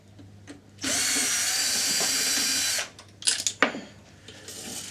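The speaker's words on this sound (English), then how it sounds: "we're going to pull the screws out of the tranny plate." A power driver whirs steadily for about two seconds while backing screws out of the transmission plate of an HPI Baja RC car, followed by a few short clicks and rattles of loose parts.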